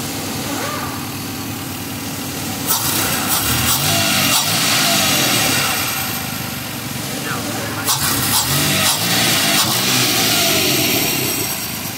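A Toyota 1FZ engine running after cylinder head installation, idling steadily with two rising revs, loud and close, with someone talking over it.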